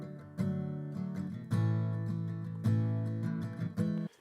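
A miked guitar recording with audible room noise, played as sustained chords that restrike about every second and a quarter, moderately loud and alone.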